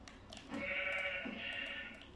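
A sheep in Minecraft lets out a drawn-out, wavering bleat, loud and close, with a second bleat following, heard against quiet game background without talk.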